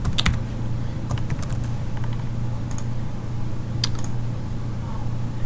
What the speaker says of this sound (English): I'll type it again just to be sure.